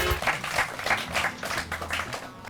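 Audience clapping in a quick, uneven rhythm for a quiz contestant's correct answer at an outdoor gathering in Nai Basti, Bulandshahr, a lively burst of hands close by with no talk.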